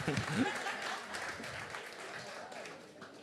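Audience applause for a performer named Caitlin at an outdoor jazz event in the Bronx, a dense patter of clapping that fades gradually over about three seconds, with a voice briefly heard at the start.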